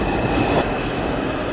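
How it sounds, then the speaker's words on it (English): A train pulls out of a station with a steady, loud rumble of wheels and cars and a thin, high squeal running through it, with no talking. "but I just missed another train."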